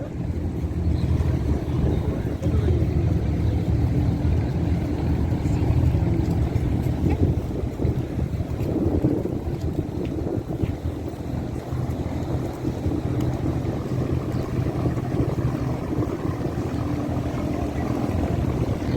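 Steady, loud drone of abra water taxi boat engines on Dubai Creek, with wind buffeting and water noise continuing throughout.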